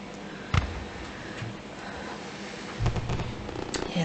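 Fireworks sound effect in a Peppa Pig quiz: two bright bangs with crackling bursts, one early and one later, popping over a busy, noisy bed.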